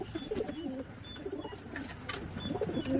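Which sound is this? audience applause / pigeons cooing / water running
pigeons cooing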